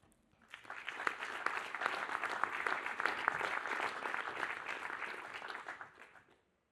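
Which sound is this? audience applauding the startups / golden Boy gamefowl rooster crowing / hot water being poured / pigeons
audience applauding the startups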